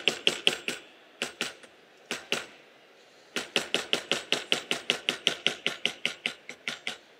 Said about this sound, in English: and I will use the beveler